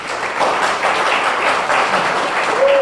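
Audience applause filling a room at a local cultural council grant event, a dense, steady wash of many hands clapping close by for the whole stretch, with no talk over it.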